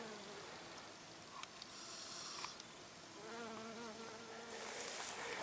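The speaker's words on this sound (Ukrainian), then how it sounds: "Я знайшов, куди літають бджоли." Honey bees buzzing steadily around the listener, several drones rising and falling in pitch against a constant outdoor hum.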